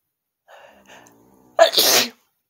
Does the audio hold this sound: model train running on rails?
no